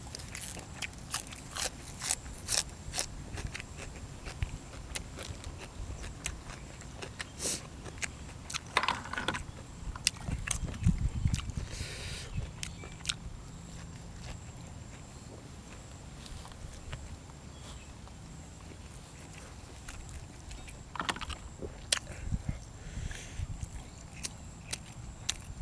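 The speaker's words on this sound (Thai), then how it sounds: "กรุบกรุบกรุบหอย" Boiled apple snails crunched and chewed close to the mic at a mukbang meal, with repeated soft crisp bites and chewing clicks, quiet overall with a few louder crunches and no talk.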